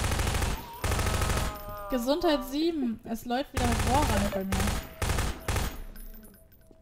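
Bursts of rapid gunfire rattle in short volleys alongside sound effects in the video game Half-Life 2, while a person talks in German and laughs over the shooting.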